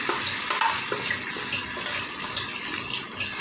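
Green masala hits hot oil in a pan for a chicken capsicum gravy curry, giving a steady, close, bright sizzle that crackles and hisses evenly without pause, with no talking.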